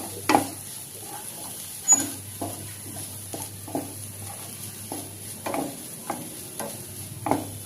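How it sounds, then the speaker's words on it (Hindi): Onion, green chili and mango stirred and fried in a pan, with a steady low sizzle under repeated soft scraping strokes of a spoon, several evenly spaced knocks over about eight seconds, close and moderately quiet. "सारी चीज़ों को अच्छे से मिक्स करते हुए भून लेंगे"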